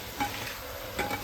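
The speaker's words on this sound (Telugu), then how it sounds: "ఇప్పుడు స్టవ్ని కొంచెం మీడియం ఫ్లేమ్లో పెట్టుకొని వాటిని కాసేపు ఫ్రై అవ్వనివ్వాలి." Onions and tomatoes frying in hot oil with spices in a kadai over a medium flame, a steady sizzle with two brief stirring bursts.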